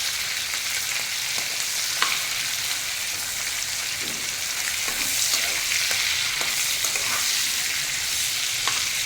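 Giant freshwater prawns frying over a high flame with a pinch of salt, a steady bright sizzle broken by occasional stirring clicks and scrapes, close and fairly loud with no voices.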